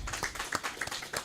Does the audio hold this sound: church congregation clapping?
yes